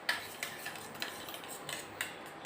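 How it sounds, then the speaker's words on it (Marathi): A spoon stirs ketchup mixed with red chilli powder for a grilled sandwich sauce, a few faint, light clinks and scrapes against a bowl in a quiet room. "हे केचपमध्ये थोडंसं लाल तिखट ॲड करायचे आणि हे मिक्स करून घ्यायचे"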